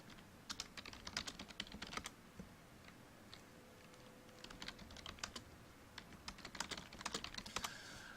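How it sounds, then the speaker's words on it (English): Typing on a computer keyboard, rapid irregular bursts of key clicks with short pauses between, faint and close against a steady low background hum. "I'm going to send him a message, so you're going to hear typing."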